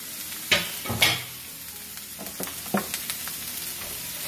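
Food fries in a pan with a continuous sizzle, broken by two sharp loud pops early on and then smaller pops and crackles.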